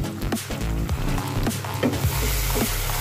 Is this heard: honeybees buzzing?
no